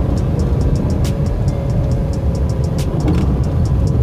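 Car engine running steadily during a night driving lesson around a gear change, a constant loud road drone with a light ticking on top and no talk.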